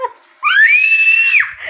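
A child imitates a loud cry with one long, high, wailing vocal tone held for about a second, sudden in onset and loud, after a brief bit of quieter voice.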